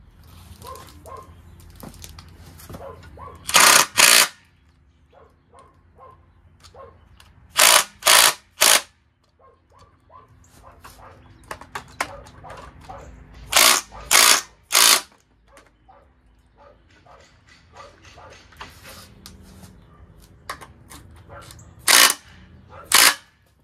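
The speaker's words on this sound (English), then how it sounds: "I'm gonna have to use a wrench for these two. I'm gonna go around and tighten the rest of them up." A wrench tightens the bolts on an engine oil sump, producing loud, sharp metallic bursts in clusters of two or three. Quieter clinks and handling noises fill the gaps between them.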